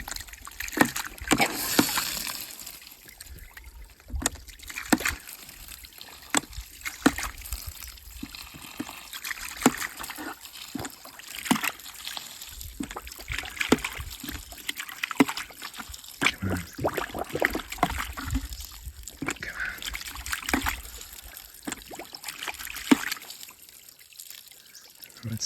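Water from a gravity-fed garden drip-irrigation siphon trickles and gurgles steadily throughout, a close, uneven liquid flow with small splashes and no voices.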